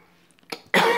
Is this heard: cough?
yes